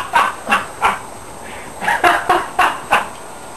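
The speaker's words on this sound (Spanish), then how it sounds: "este perro es muy fuerte" A dog barks loudly and close by, about nine sharp barks in an uneven rhythm with brief pauses between them.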